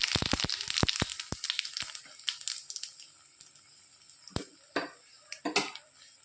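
Potatoes and vegetable stems hitting hot fish oil tempered with whole cumin, dried chillies and bay leaf, giving sharp clattering and scraping of utensils against the pan with bursts of sizzle, loud at first and then more intermittent.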